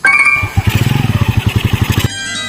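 A motorcycle engine runs close by, opening with a steady drone before breaking into a fast, rhythmic series of sharp putters and pops, then settling back to an even hum.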